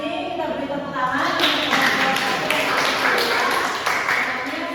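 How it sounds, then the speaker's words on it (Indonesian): Classroom audience clapping together after a student presentation in a lecture session, a sustained burst of applause lasting several seconds at moderate loudness, with voices mixed in. "Kita beri tepuk tangan."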